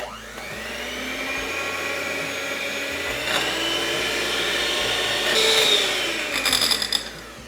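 An electric whisk beats sugar and butter for apple cookies, a steady high motor whine throughout that strains and shifts pitch as the beaters work the mixture, ending in brief rattling.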